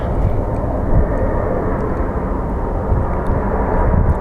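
An airliner passing at Phoenix Sky Harbor airport, a loud, steady broadband jet roar filling the whole stretch at close range, with no talk over it.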